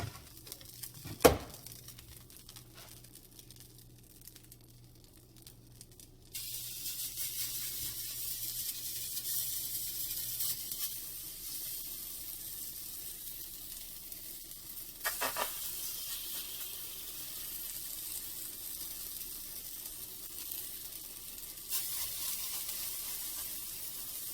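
Zucchini fritters frying in a little oil in a pan, a soft steady sizzle and hiss after a brief clatter at the start, close and fairly quiet, with no voices.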